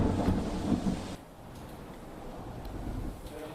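Heavy rain pours with rumbling thunder over a flooded area of Navsari, Gujarat. A loud, low roll opens the clip, then a steady, dense wash of rain continues with no voices.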